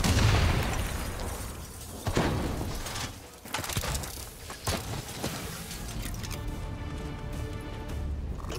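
Robots detonating in the Black Ops 3 frozen forest cutscene: a sharp boom near the start, then a run of heavy bursts and crashes with clanking mechanical debris, fading into a tonal rumble.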